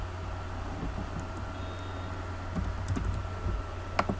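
Someone types on a computer keyboard while setting up a Zentyal domain, producing a few light scattered key clicks close to the microphone over a low steady electrical hum, with no talk.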